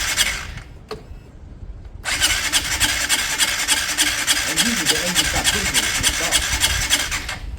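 A Piaggio Fly 125 scooter with a swapped engine runs without its airbox. After a quiet start it fires up and settles into a steady, raspy, buzzing idle with a fast regular pulse, close and continuous.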